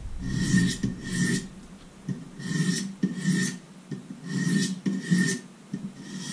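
A knife blade, a Boker Auto Kalashnikov, is stroked against stones on a Wicked Edge precision sharpener, giving rhythmic rasping scrapes about twice per second, close and clear with brief pauses between strokes.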